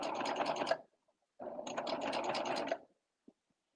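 A serger runs in two steady bursts while sewing the side seam of a flare pant, a fast buzzing hum that stops, then resumes for about a second and a half, followed by a small click.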